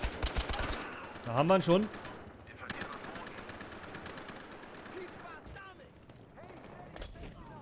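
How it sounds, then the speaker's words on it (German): Gunfire in a Battlefield Hardline multiplayer match, a rapid crackling burst of shots near the start, followed by scattered distant reports and game noise while someone talks over it. "Der Typ da hinten sniped."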